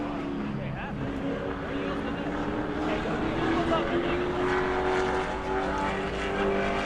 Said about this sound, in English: Parks and Long construction sponsored car coming by to take the green flag